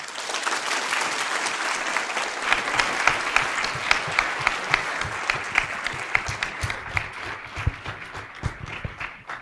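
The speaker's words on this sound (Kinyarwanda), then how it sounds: "namwongera amashyi cyane." Wedding guests at Teta's wedding break into sustained, dense applause, many hands clapping together at close range for the whole stretch, with sharper individual claps standing out near the end and no talk.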